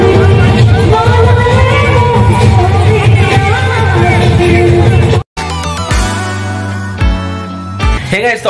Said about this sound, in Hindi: गाइस देखो उस दिन से थोड़ी सी ज्यादा भीड़ है